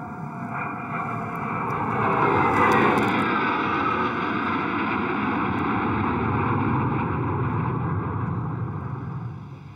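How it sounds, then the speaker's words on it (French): Algerian military jets fly overhead near the Mali border in the north of the country, a steady broad roar that swells around the second and third seconds and then holds for the rest of the stretch, with no voices. "en moins de 10 minutes, les jets algériens violeront à 2 reprises l'espace aérien du Mali."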